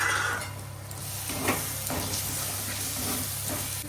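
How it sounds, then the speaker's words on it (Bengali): Chopped tomato fries in a spiced masala for a crab curry, a steady loud sizzle and hiss with occasional soft scrapes of a stirring spoon. "এই যে টমেটো কুচিটা দিয়ে দিলাম।"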